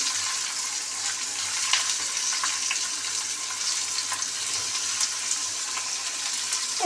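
Potatoes and onions fry in hot oil in a pan, with a steady, dense, close sizzle and small crackles throughout and no talking.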